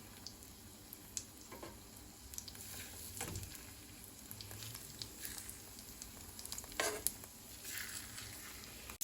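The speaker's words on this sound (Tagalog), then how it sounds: "Isa-isahin na nating iprito ang ating sibas." Marinated sea bass frying in hot oil, a soft crackling sizzle with scattered pops and spatters, fairly quiet and continuous.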